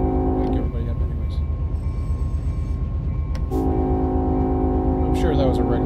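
Train horn whistle sounding from a locomotive in the Run8 train simulator game, a sustained steady blast over continuous rumbling engine and rail noise, loud and close throughout.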